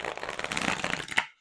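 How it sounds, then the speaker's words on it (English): A tarot deck, Aura Tarot Collection Edition, is shuffled in one quick, close riffle of crisp card flutter lasting just over a second, then stops abruptly. "Shuffling much better"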